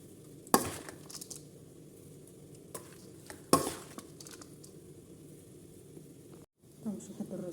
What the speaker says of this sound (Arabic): خليه يتفاور كل مره ونحركوه نقلبوه